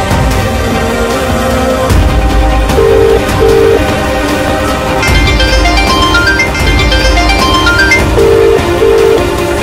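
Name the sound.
phone ringing while calling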